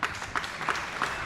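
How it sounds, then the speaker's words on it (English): A brief round of audience applause at a 2003 Super Series squash final between Nicol and Power, scattered claps swelling in quick pulses across a short burst. "referee Dean Clayton getting a round of applause for the no let"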